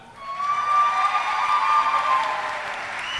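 Applause from a missionary conference audience swells quickly and holds steady for a few seconds, a dense patter of clapping heard at moderate distance with no speech over it.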